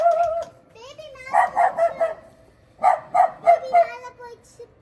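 Three dogs bark in two quick rhythmic bursts of several sharp barks each, loud and fairly near, separated by a short quiet gap, with faint household noise between.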